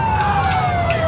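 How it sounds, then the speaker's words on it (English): A Delta Siren police siren in the GTA 4 FDLC mod, a loud, close, steadily wailing tone that slides slowly downward over a low vehicle rumble, with no talking. "We're back to using my good old Delta Siren"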